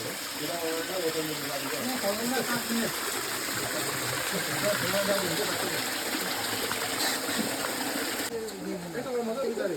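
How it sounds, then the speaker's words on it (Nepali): A clear spring-water stream in a Sikkim jungle runs over rocks with a steady, close rushing gurgle, while people talk over it throughout and birds call faintly in the background. "स्प्रिङ वाटर हो नि"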